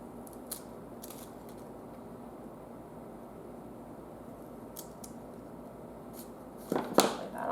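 Scissors snip a potted plant indoors, giving a few faint, sharp clicks spread over a steady low background hiss, with a closer, louder rustle and cut near the end.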